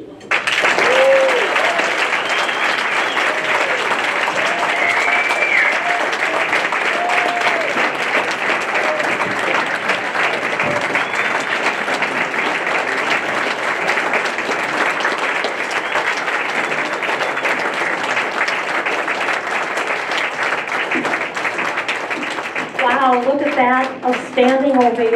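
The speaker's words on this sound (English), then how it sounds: "Please give a round of applause for Grandma Dorothy." A Shamrock Club audience gives sustained, loud applause that rises into a standing ovation for an elderly grand marshal, dense clapping that carries on for over twenty seconds, with a few voices calling out near the end.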